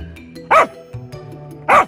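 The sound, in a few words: dog barking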